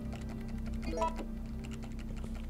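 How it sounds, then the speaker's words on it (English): Computer keyboard keys clatter in a fast, steady stream of clicks while a Resident Evil 3 game is being played, with low background hum and no talking. "I'm trying to beat my keyboard up in order to pick things up faster"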